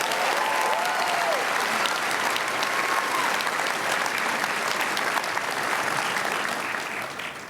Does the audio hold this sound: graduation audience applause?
yes